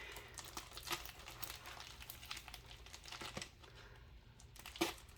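A well-taped package is pulled open with faint, close crinkling and tearing of tape and wrapping, ending in one sharper rip.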